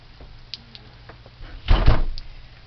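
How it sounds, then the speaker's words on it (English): A door is shut on a rainy bird yard homestead: a few light clicks and creaks, then one solid nearby bang with a brief rattle before quiet returns. "Let me shut the door"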